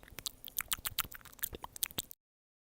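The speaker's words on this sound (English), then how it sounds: "I'm just gonna be making little mouth noises." Close-up ASMR mouth noises, a rapid string of wet clicks, smacks and squishy chewing sounds, intimate and crisp, that stop abruptly into silence.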